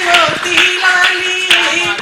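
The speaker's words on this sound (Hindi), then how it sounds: "बजाओ सब मिल ताली" At a comedy and poetry program, audience clapping comes in a few sharp bursts beneath a sustained, chant-like voice.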